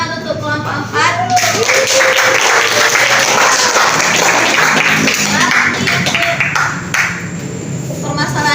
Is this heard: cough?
no